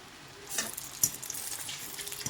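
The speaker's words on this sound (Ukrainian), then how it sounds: "таким чином викладаю дане м'яско для обсмаження" Chicken pieces are laid into a hot pan to fry, setting off a soft, close sizzle with a couple of brief spitting crackles and no talking.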